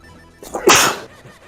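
A single sharp sneeze bursts out near the mic during a live game commentary stream, loud and brief, with quiet background before and after.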